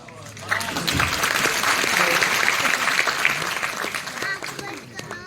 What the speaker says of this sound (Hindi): कई लोगों ने तालियां बजाई